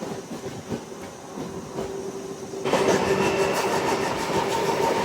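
Kacheguda–Raichur MEMU passenger train number 67787 running in Karnataka, a steady rumbling roar with a continuous tonal hum that grows louder midway, heard from on board without talk.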